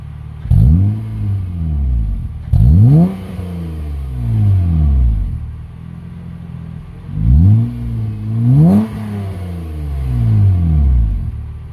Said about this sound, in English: I'm gonna do a couple revs.